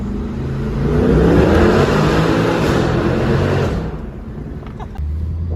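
A Mercedes W204 C63 AMG's 6-litre engine revs up loudly with a deep, rumbling exhaust note, then eases off to a lower idle burble, close by.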